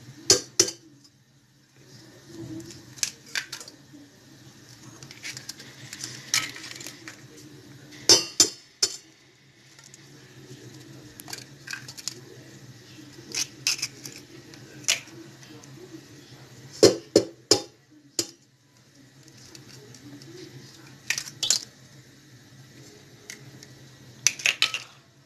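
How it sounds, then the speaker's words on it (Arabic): Eggs whisked by hand in a bowl with a little salt, giving repeated light clinks of utensil against the bowl in bursts, with someone talking over it at times. "نضربو اول حاجة البيضة"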